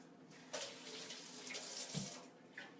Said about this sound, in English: let me rinse my hand off